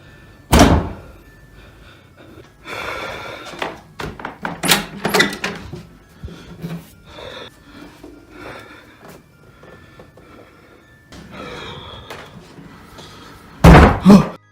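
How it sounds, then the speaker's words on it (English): Sharp knocks and heavy bangs come from inside a closet in a dark room: a loud thump at the start, a cluster of irregular raps and thuds in the middle, and another hard bang near the end, with quiet gaps between. "I just heard knocking from the closet."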